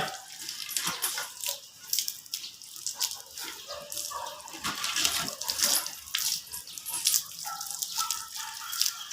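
Running water splashes over a dog during a bath, with uneven gushing, pouring and spattering that swells and dips throughout.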